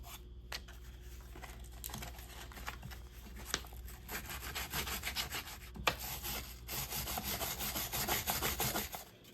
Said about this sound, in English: now we got this all scraped clean, all the gasket material off both sides